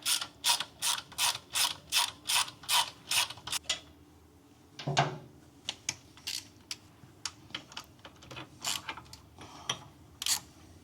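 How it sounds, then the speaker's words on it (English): A ratchet wrench loosens a bolt on the centre stand mount of a CFMOTO 450MT motorcycle, with a rapid run of even clicks, then a brief pause and a looser, more scattered series of ratchet clicks, close up with no talk. "So first we have to take off the bolt."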